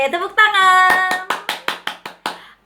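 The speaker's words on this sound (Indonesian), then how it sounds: "tepuk tangan" At a children's Sunday school service, a voice calls out briefly, then about eight crisp hand claps follow close by at an even, lively pace before fading to quiet.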